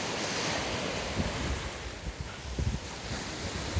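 Surf breaks on a hotel beach at Cayo Coco, Cuba, a broad steady wash of ocean waves mixed with wind buffeting the microphone, with a few soft thuds of rolling water near the end.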